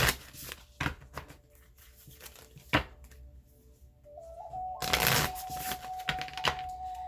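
Moonology oracle cards being shuffled by hand, giving crisp riffling bursts and slaps of card stock, close and moderately loud, with a faint tone running underneath.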